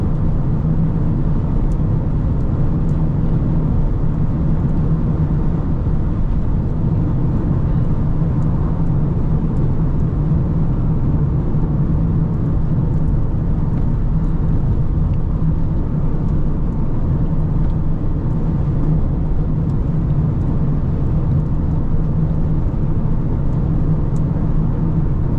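A Volkswagen Passat cruises on a highway in sixth gear at about 3,000 rpm, its engine a loud, steady low drone blended with road and wind noise inside the cabin, continuous with no talk.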